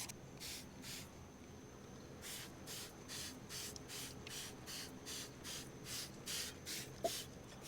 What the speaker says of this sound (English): okay, I've got it sprayed on everywhere.